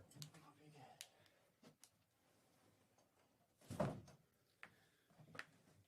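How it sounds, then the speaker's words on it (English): A door closes with a single solid thunk near the middle, surrounded by scattered clicks and knocks in a quiet room while voices talk faintly around it. "Close the door."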